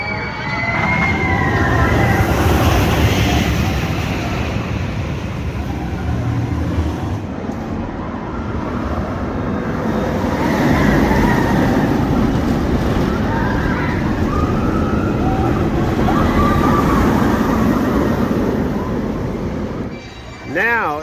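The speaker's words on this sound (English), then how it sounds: "Now it is time to take a ride on the train." Busch Gardens Williamsburg railway train ride gives a steady, continuous rumble of rolling rail cars with squeals and whistle-like tones, loud and close throughout, with talk briefly heard near the end.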